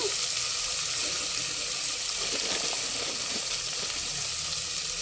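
Spiced chicken pulao ingredients fry in a hot pan with rock salt just added, giving a loud continuous sizzle and watery hiss with faint stirring scrapes, close by and without any talking.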